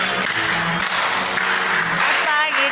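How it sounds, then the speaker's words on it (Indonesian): Children at a Sunday school clap their hands together in a busy, uneven patter, mixed with voices and room noise. "Semua tepuk tangan."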